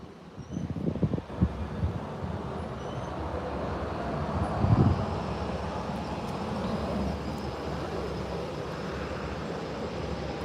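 A Beechcraft 1900 rolls down the runway on a short takeoff from mid-runway, its turboprop engines a steady, moderately distant rumbling drone, with a couple of brief thumps early on and a swell partway through.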